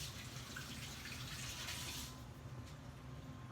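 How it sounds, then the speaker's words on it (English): A kitchen tap runs steadily as hands are washed under it, a quiet even rush of water with a slight change in the splash partway through. "I will wash my hands"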